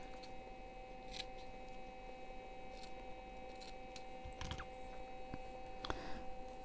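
Scissors snipping a piece of shabby pink Christmas dangle craft material, a few faint, sparse clips over a steady low hum, with no voices.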